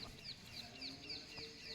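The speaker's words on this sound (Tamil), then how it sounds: "பறவைகளின் சத்தம் கேட்கிறதா உங்களுக்கு?" Birds call repeatedly at the Tirukodikaval temple in Tamil Nadu, a chorus of chirps and clucking, fowl-like notes at moderate distance over a soft ambient hum, with no talking.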